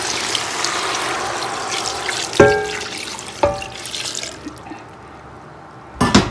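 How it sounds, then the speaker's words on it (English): Water pours and splashes steadily into a pot of steamed meat for bitter leaf soup, broken by a couple of sharp clanks, then the flow stops before a final knock. "So the meat has steamed a bit, so I just go ahead and add some water."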